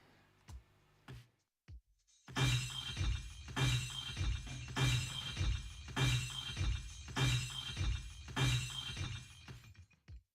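A few faint clicks, then six loud crashes of shattering glass repeat at regular intervals, each with a bright tinkling spray of shards.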